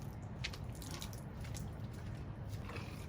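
Water from a hose runs and splashes steadily while a Tesla is being washed, a soft continuous spatter with faint drips, heard close and quiet with no talking.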